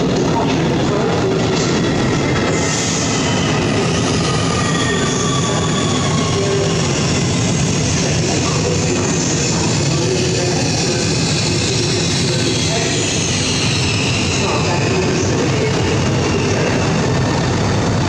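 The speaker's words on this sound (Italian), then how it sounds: "il treno alta velocità Frecciarossa 93-10 di Trenitalia" A Trenitalia Frecciarossa ETR 600 high-speed train rushes through Bologna Centrale station, a loud continuous roar of wheels and air that fills the whole stretch without pause.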